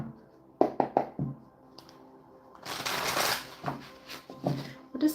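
Tarot cards being shuffled during a live tarot reading, a close papery riffle and slap with a few quick taps early on, then a longer sustained shuffling rush, no talking.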